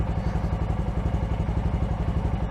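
A Honda Monkey 125cc motorcycle idles in first gear as the clutch engages, giving a loud, close, rhythmic thumping and clattering engine beat that stays steady without pulling away.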